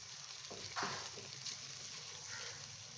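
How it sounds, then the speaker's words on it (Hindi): Rice being fried and stirred in a pan while making green pulao, a steady soft sizzle with a few scraping stir sounds, moderately close, no talking. "और इसको 1 से 2 मिनट हम भूनेंगे।"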